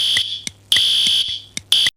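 A school fire alarm sounds in loud, shrill electronic bursts that repeat in a regular on-off pattern with brief gaps, heard close and alone.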